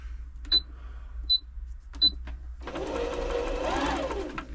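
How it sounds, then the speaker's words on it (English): A Brother Super Ace III sewing machine being test-sewn after a service: a few sharp clicks and taps come first, then the motor and needle run in a smooth, steady whir for about two seconds. "Just giving it another sew just to make sure everything's smooth"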